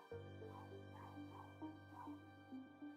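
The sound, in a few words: dog barking in the background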